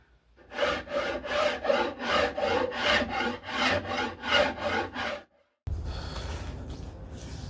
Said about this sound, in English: I've taken it down with the file, so it's pretty smooth out too.